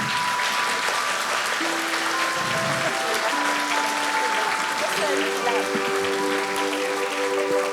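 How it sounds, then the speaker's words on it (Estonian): Big audience applause fills a school auditorium at a Christmas concert, sustained and even throughout, with sustained tones sounding over the clapping and a voice briefly heard partway through. "Ja teeme suure aplausi"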